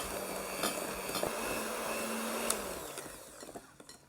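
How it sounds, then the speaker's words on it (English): Electric whisks beat butter for a Victoria sponge cake with a steady, fairly quiet mechanical whir. It eases off near the end with a few knocks against the bowl. "Now speed up your whisks."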